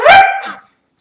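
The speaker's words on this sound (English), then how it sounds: "And a dog barks out in the night." A single loud, close dog bark, sharp and short, then quiet with a faint trailing sound.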